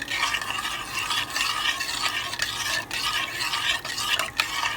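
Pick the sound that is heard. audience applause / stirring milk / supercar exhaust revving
stirring milk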